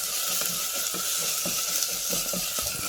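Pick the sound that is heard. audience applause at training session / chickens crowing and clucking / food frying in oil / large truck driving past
food frying in oil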